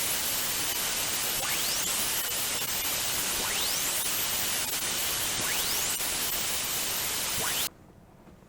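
Recorded HAARP radio signal in the kilohertz range: continuous loud static hiss with faint repeating rising whistle-like sweeps every couple of seconds, ending abruptly.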